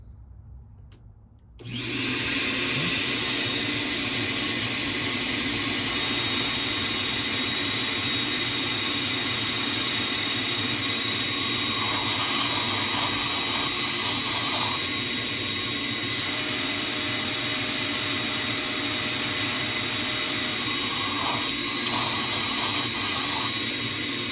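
A vacuum running aboard a Bayliner 4588 boat during fuel injector installation switches on after a moment of quiet, then holds a loud, steady roar with no voices.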